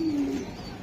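Pigeons coo at a pigeon farm in a short, close burst, one low drawn-out coo standing out over a soft background murmur.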